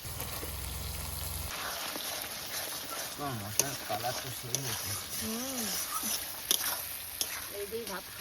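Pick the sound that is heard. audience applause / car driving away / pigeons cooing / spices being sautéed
spices being sautéed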